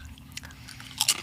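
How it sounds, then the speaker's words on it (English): Close bites into stale, extra-crunchy potato chips during a podcast taste test, with soft chewing leading to two sharp crunches near the end. No talk. "I still think I got more of a crunch on that than the Pringle."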